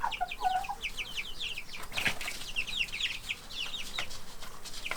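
Chickens being fed high-protein food on a Portugal farm, a busy flock clucking and chattering nearby with overlapping calls, a brief wing flutter and no speech.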